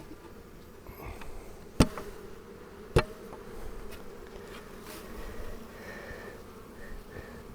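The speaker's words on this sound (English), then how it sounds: "There's enough bees in there." Honeybees drone in a steady, close hum at their hive, with two sharp knocks or clicks breaking through early on.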